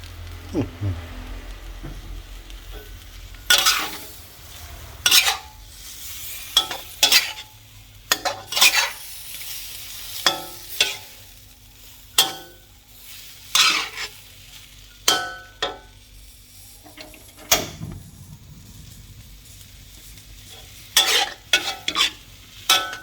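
Vegetables tossed with a little pork seasoning powder in a pan, heard as sharp, irregular spatula scrapes and clatters over a low, steady frying hiss, close and fairly loud.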